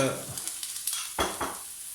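Onions fry in a hot pan with a close, steady sizzle and a few stirring scrapes, with no talking over it.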